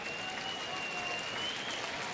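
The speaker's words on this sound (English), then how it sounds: "he's going to get a standing ovation from this crowd" Steady wash of applause from a baseball stadium crowd giving pitcher Phil Humber a standing ovation, broad and sustained at moderate distance, with a faint tonal whine running beneath it.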